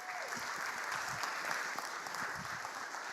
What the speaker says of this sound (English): Would you put your hands together for Aaron real quick?